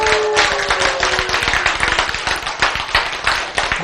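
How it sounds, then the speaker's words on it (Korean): A crowd of listeners at a lecture claps hands in a brisk, dense burst of applause, loud and close, with a brief tone near the start and faint voices underneath. "그래서 박수를 치게 되어 있다 이 말이야"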